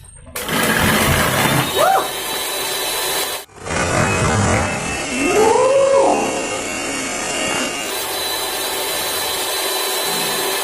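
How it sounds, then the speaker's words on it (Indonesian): A handheld electric mixer whips milk for dalgona coffee with a loud, steady motor whine that cuts out briefly and starts again, while people chat over it. "Jadi kita punya ide buat di mixer juga susunya."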